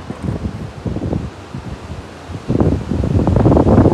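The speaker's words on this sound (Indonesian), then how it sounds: "Anginnya cukup kencang." Strong wind gusts outdoors along a landslide-damaged road, a steady broadband roar that swells louder in the second half, with rustling and buffeting against the microphone.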